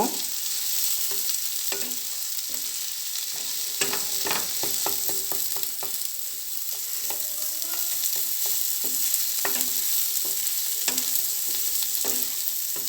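Egg fries with chopped capsicum in a hot pan, a steady close sizzle broken by frequent clicking scrapes of a spatula stirring and tossing the mixture, with no voices.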